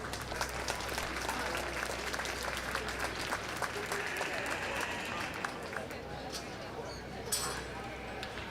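A crowd applauds sheep exhibitors at a youth livestock show lamb judging. The clapping is steady and moderately distant, with arena rumble and scattered voices beneath it, and it tapers as a sharper clap or two stands out near the end.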